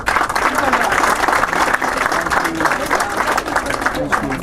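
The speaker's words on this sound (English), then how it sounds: "Round of applause" A crowd applauds at an awards presentation for top students, dense steady clapping filling the whole stretch at close range, with voices mixed in beneath it.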